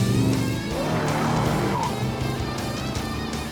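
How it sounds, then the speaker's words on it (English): A cartoon race car tears through town, engine roaring close and loud as its tires squeal in a long skid, with no voices over it. "we just got a call about a race car running red lights in town"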